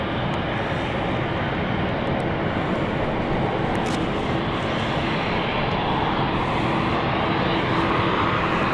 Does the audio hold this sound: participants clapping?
no